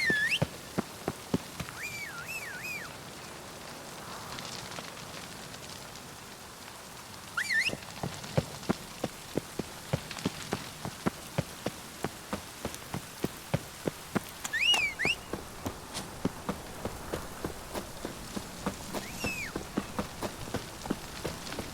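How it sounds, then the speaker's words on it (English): Steady rain patters down in Witcher 3, a constant wash of drops broken by sharp clicking ticks and occasional faint animal calls, with no talking. "I like rain."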